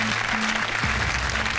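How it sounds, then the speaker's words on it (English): Applause from a crowd, steady clapping for a second or two with a short burst of tonal sound partway through. "Give them a round of applause for that."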